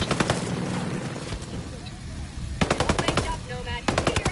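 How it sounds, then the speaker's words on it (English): Rapid automatic gunfire in the Ghost Recon video game, loud clustered bursts of shots at the start, middle and end, with in-game voices talking between them. "Sniper's about to engage us. Incoming sniper fire."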